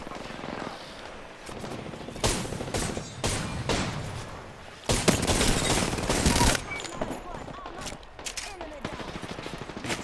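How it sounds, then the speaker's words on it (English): Sniper gunfire in the Apex Legends video game, loud shots cracking out in irregular bursts amid a busy firefight with rattling automatic fire, while voices talk over the action. "we're getting sniped at from somewhere"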